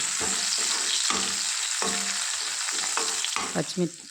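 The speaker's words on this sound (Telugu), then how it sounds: "అదే ఆయిల్లో ఒక ఆనియన్ని ముక్కలుగా కట్ చేసి వేసుకోవాలి. ఈ ఆనియన్ని ఎర్రగా వేయించుకోవాలి." Chopped onion frying in oil in a pan, a loud continuous sizzle broken by repeated scraping stirs of a spoon, close up with no voices.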